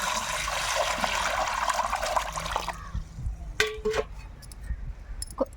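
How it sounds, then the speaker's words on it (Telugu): Water gushes and splashes for a few seconds, then stops, followed by a few clinks and small drips as items are handled in a basin. "దీన్ని ముందుగా నీట్గా నీళ్ళు అయితే కడుగుతాను."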